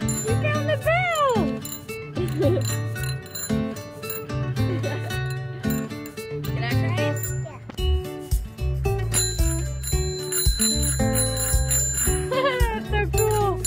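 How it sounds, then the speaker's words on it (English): A thrift-store bicycle bell rings repeatedly in bright, metallic dings over upbeat background music, with people talking nearby. "We found the bell!"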